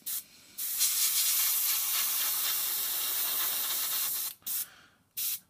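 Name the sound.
airbrush spraying thinned gloss varnish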